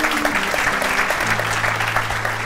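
A studio audience on a television talk show applauds in a loud, continuous burst of clapping, with a low sustained musical tone underneath and no talking.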